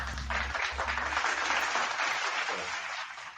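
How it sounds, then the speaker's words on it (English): A small audience claps and cheers through a round of applause on a comedy talk show, dense and close, steady for several seconds with no talking over it. "Smoke, give him a round of applause, please, sir"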